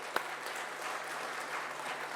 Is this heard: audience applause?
yes